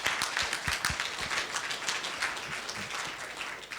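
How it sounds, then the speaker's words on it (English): A crowd applauding steadily at a network operators' conference closing session, dense clapping that holds at an even level for a few seconds without pause. "So please, some applause for Axel Pavlik and NCC staff."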